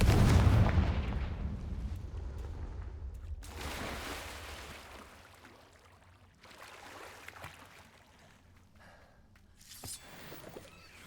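A Confringo fire spell bursts in Hogwarts Legacy with a heavy booming blast at the start, followed by fading rumble and a few smaller crackling bursts.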